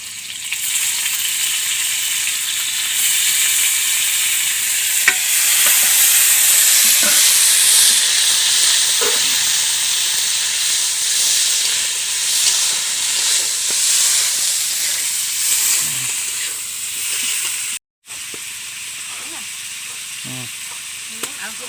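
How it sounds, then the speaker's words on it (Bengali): Paneer cubes fry in hot oil in a kadai, giving a loud, continuous sizzle with faint stirring clinks, broken only by a very brief dropout near the end. "সঙ্গে সঙ্গে কিন্তু আমি পনিরগুলো ভেজে নেব।"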